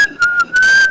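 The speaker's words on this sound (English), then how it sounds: "I can only whistle like" A person whistles a wobbly, poorly controlled tune in short broken bursts, a thin steady pitch that cuts out and resumes, with no talking.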